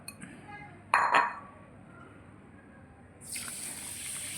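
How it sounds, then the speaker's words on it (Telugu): Water pours into a vessel to rinse soaked millets, with a couple of sharp clinks of the container near the start, then a louder gushing pour toward the end. "వాటర్ పోసేసి కడిగేసుకుంటున్నాం"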